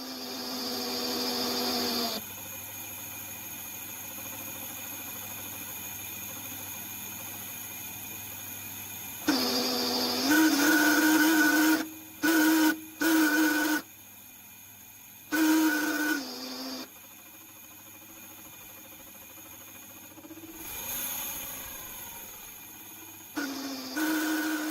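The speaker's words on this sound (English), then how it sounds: "You don't want to hear that sound coming from your transmission" A badly worn clutch disc slipping against the flywheel in a car transmission, a whining, grinding drone that surges in several loud bursts over a steadier background hum.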